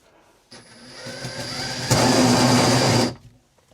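A power drill bores into a panel during warranty repairs on a Brinkley RV, whining steadily for a few seconds and then bearing down harder and louder before stopping abruptly, close by with no talk.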